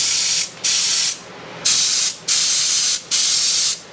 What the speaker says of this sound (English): All I've ever sprayed out of this is waste oil.